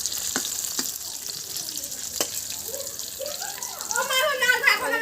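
Ash gourd (chal kumro) fritters, stuffed bora, frying in hot oil with a steady, close, dense sizzle and a few sharp ticks; a voice-like murmur rises faintly near the end.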